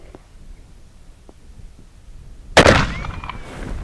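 A BFR .460 S&W Magnum revolver fires a single loud, sharp shot at a Spam can target after a quiet stretch, followed by a rumbling decay.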